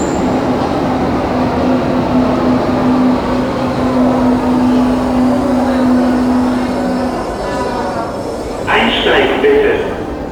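A Berlin metro train rumbles loudly through an underground tunnel, with a steady droning hum and rattling carriage noise that shifts near the end.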